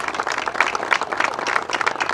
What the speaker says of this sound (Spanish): le vamos a dar un fuerte aplauso y abrazo también